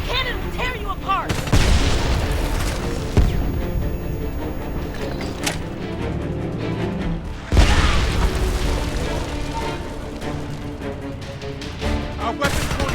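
Heavy cannon blasts and explosions in the Homefront video game, with two big booming impacts among continuous loud gunfire, rumbling and busy battle noise, and shouted voices under the din.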